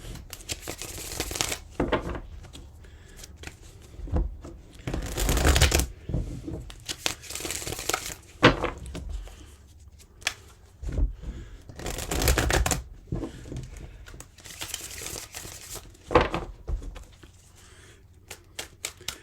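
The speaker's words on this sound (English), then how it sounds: "Let's give these cards a few shuffles and see what's going on for the sign of Capricorn." Tarot cards shuffled by hand in repeated bursts, crisp riffling and flapping flurries separated by short quiet pauses, close and clear.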